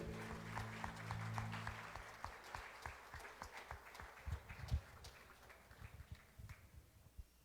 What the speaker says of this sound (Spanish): Vamos a darle un aplauso a los niños que vienen ahí